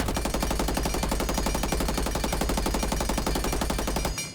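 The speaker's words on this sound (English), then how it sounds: "First gun is V308, basically the LMG" Sustained rapid automatic fire from the V308 light machine gun in Rainbow Six Siege X, a loud unbroken burst of closely spaced shots lasting about four seconds before cutting off abruptly.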